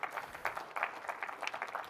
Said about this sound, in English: That was the one time I was hoping for applause.